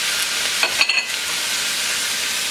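Garlic and tomatoes sauté in a pan, giving a steady close sizzle with a brief burst of stirring clatter near the start, then a constant frying hiss.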